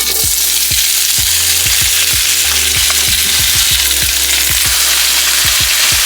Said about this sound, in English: Now the potatoes are sauteed already in olive oil.